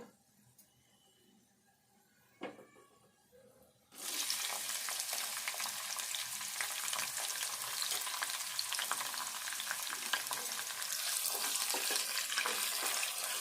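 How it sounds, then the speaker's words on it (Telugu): Sliced onions frying in hot oil for a potato and green chilli fry: after a quiet start and a single clatter, a loud, dense, continuous sizzle bursts in and carries on steadily to the end. "ఉల్లిపాయ వేగాలి."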